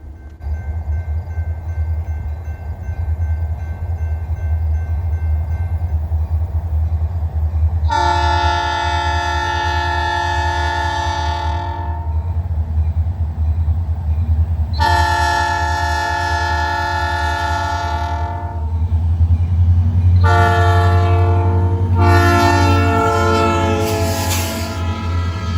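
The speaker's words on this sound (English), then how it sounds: "we start off early with a northbound ore train with an IC SD40-2 on point" A northbound ore train led by an IC SD40-2 locomotive rumbles past with a deep steady engine drone, sounding several long, loud multi-tone horn blasts, the last ones coming in quick succession.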